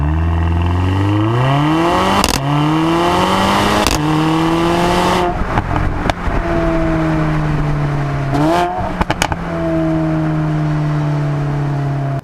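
A 2016 Mercedes-AMG A45 hatchback engine revs hard and climbs in pitch through several quick gear changes, each shift cutting the roar briefly before it rises again, loud and close.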